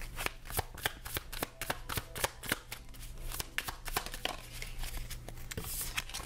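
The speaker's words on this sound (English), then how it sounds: "we are pulling a card to tell me how many cards to pull for your reading" Tarot cards being shuffled by hand, a close, continuous run of rapid papery riffles and flicks lasting several seconds with no talking.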